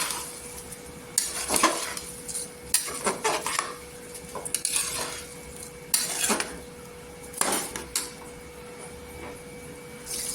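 A spoon scrapes and clinks against a metal pot in irregular strokes while soaked rice is mixed in, close by, with no talking.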